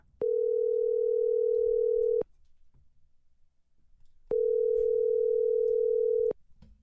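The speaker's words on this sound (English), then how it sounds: "Let's give him a call right now." Telephone dial tone on a call placed during a podcast: two long, steady, loud tones, each about two seconds, separated by a quiet gap with faint background noise.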